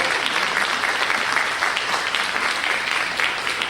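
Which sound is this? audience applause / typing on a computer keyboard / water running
audience applause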